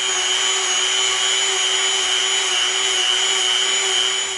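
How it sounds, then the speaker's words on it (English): Dremel rotary tool grinding the edges of EVA foam strips, a steady high whine with a rough abrasive buzz, close and continuous with no talk. "we want both top edges to be Dremeled. So we're going to Dremel around all of the pieces we cut."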